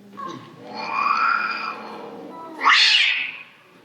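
A ship's cat meows on a theatre stage during a play: a drawn-out, rising-and-falling meow followed by a sharper, louder yowl, heard fairly close with no talk over it.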